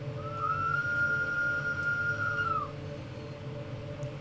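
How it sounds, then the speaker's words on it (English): Steam-style train whistle on the Bernina Express route in Train Sim World 5, sounded before entering a tunnel: one sustained, steady tone lasting about two seconds over a constant rumble of the moving train. "I sound whistles before tunnels,"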